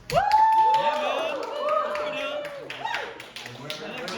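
Scattered audience claps at a standup comedy show, irregular sharp hits spread across a few seconds under a drawn-out voice.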